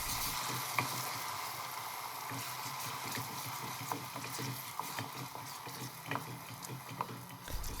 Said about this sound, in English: Turn the heat to low and keep stirring the oil.